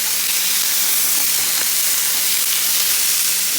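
Food sears in a hot pan just after being flipped, a loud, steady sizzle and hiss that carries on unbroken from start to end with no talking.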